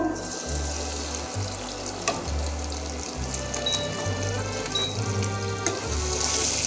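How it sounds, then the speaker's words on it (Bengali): Dry red chillies and cumin sizzle in leftover fish oil, giving a steady close crackle with scattered pops and a low hum running underneath. "প্রথমে দিয়ে দিচ্ছি দুটো শুকনো লঙ্কা দিয়ে দিচ্ছি জিরে ফোড়নে দিয়ে দিচ্ছি এখানে আছে বাকি মাছের তেলটা"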